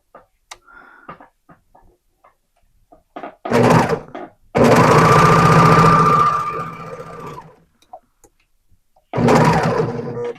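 A serger sews a pair of leggings, its motor whirring in a short burst, then a longer steady run of several seconds, then starting again near the end, with quiet handling between runs.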